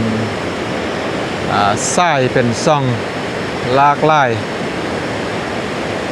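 Steady broadband roar of the Mekong River rushing over the Khone Phapheng waterfalls in southern Laos, a constant wash of water noise running under a person speaking in bursts near the middle of the clip.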